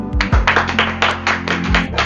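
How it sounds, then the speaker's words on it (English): A small group claps for a student during an English conversation session, with uneven, somewhat sparse hand claps close by over a low steady hum. "Have a clap for him"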